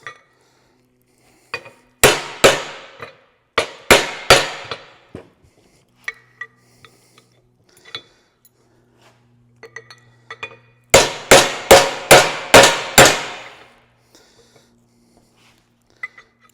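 A hammer taps a U-joint cap into place on a metal table, giving sharp ringing metallic strikes in quick bursts of three to six blows with short pauses between them and light handling clinks.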